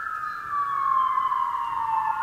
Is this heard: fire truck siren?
yes